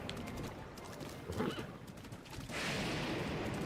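A horse whinnies in Zelda: Breath of the Wild amid stormy thunder, a faint mid-clip neigh over a rumbling, rain-like wash of background noise, with no voices.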